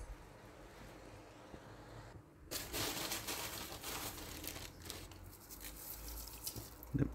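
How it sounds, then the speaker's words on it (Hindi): Rice starch water is poured into a large 5 kg pot of biryani. After a quiet start, a sudden splashing rush of liquid begins, continuing as a rough watery wash, with a small clatter near the end. "ये मैं थोड़ा सा पानी डाल रहा हूँ चावलों की पिच वाला।"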